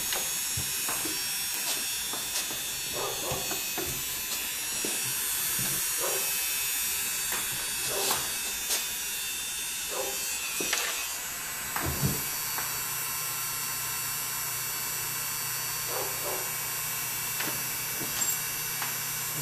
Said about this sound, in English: Associating the Dremel sound with his feet.